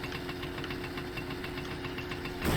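A motorcycle engine idles in the driving game My Summer Car, a steady knocking mid-pitched rumble that holds even throughout.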